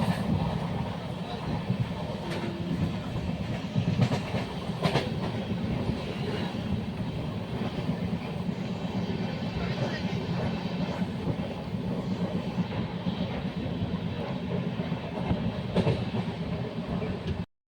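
Train running on rails through Bihar toward West Bengal, a steady loud rumble with rolling rail noise and faint clicks throughout, heard from on board for about eighteen seconds.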